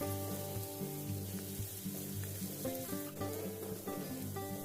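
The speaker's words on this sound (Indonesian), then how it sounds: "Tumis sampai aromanya wangi dan warnanya kekuningan." Steady sizzling of shallots and garlic sautéing in hot oil, continuous and moderately loud, with a faint musical backdrop.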